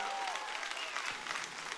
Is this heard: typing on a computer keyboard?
no